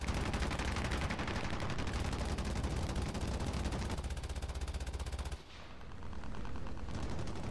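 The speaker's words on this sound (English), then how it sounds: "I should probably fire my weapon" Sustained rapid weapon fire in War Thunder, a dense loud barrage running almost without pause, briefly dropping out near the end before resuming.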